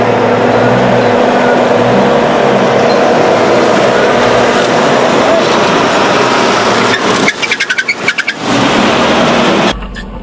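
An off-road vehicle on the Rubicon Trail rolls over a camera placed on the ground, loud close engine rumble and rattling, scraping and thumping as the vehicle passes, ending abruptly, with people talking.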